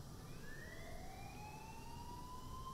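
Emergency siren wailing in the GTA video game, a steady rising tone alone with no talk over it, faint and distant.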